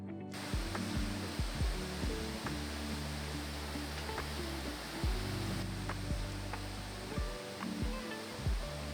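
A waterfall roars as a broad, steady wash of rushing water, close and continuous, with occasional low thumps and bumps over it.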